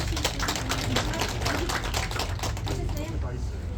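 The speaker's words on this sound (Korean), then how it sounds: "박수 부탁드릴게요" A small audience applauding, a continuous crackle of clapping hands heard fairly quietly with a low hum beneath.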